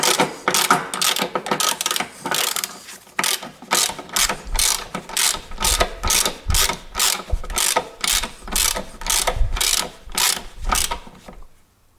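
A 10mm socket ratchet on a longer bar clicks rapidly and steadily while loosening a bolt during ABS sensor work on a Toyota Corolla, the pawl ticks close and loud in regular bursts with no talking.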